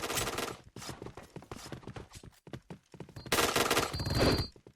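Rapid automatic gunfire in a shooting video game with a K2C EBR rifle, loud bursts of shots with brief gaps, then a denser, sustained volley near the end.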